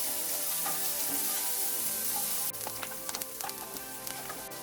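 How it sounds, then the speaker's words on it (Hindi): Chopped onions fry on a medium flame in a steady, close sizzle, and the hiss brightens midway as crackling pops and stirring clicks break through. "अभी हम अनियन को मीडियम फ्लेम में हल्का सा गोल्डन होने तक फ्राई करेंगे।"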